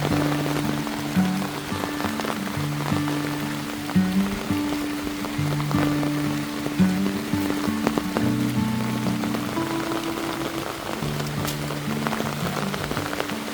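Heavy rain pours steadily onto a surface near a flooded pig pen in the Philippines, a loud continuous patter with low background tones and occasional animal or household noises, no talk.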